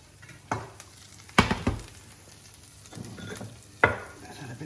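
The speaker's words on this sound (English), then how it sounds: "Now with that extra butter that's left from cooking, in goes some capers" Capers tossed into leftover butter in a frying pan after pan-frying Dover sole, with parsley added alongside; short bursts of sizzling and stirring with quiet gaps between, no talk.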